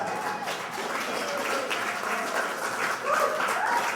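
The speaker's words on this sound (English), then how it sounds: "Logan, can you fill that in like it was a really loud applause when I said that?" Loud, dense audience applause fills the whole stretch as a steady, even wash of clapping, with a brief swell near the end and no talk over it.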